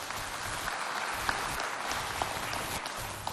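Audience at a Chadian TV variety show clapping hard for a photo, a dense, steady wash of applause with a few sharper claps standing out, no talking.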